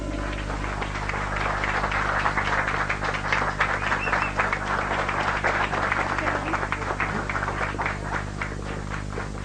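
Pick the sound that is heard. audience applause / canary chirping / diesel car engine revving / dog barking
audience applause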